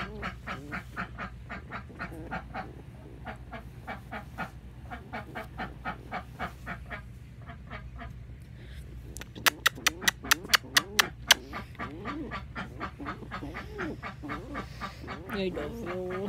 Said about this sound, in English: Ducky, you are so noisy